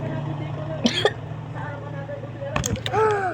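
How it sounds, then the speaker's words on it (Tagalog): A few short, harsh coughs break out between stretches of talking, close to the microphone. "Guys, may ubo kasi ako."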